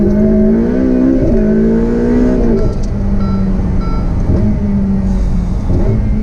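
Engine note of a Ferrari F8 Spider with its turbocharged V8 as it accelerates from inside the car. Loud rising revs climb through gear changes, with a faint whistle from the turbo. No one speaks.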